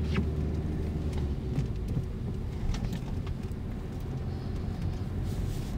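Steady low engine rumble from the cabin of a learner's car during a driving-test practice run as it speeds up and shifts into third gear, broad continuous road noise at even loudness with faint clicks on top.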